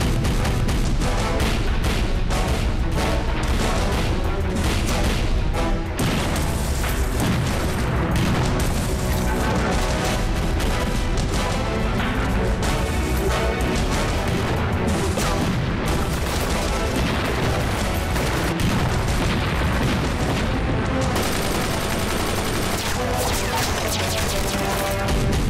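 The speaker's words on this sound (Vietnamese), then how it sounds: "Chuẩn bị nã pháo, sẵn sàng." Artillery cannon fire in a Chinese anti-Japanese war film: a dense, loud barrage of booms and crashing blasts that keeps rolling on with scarcely a pause, layered with a thick battle soundtrack.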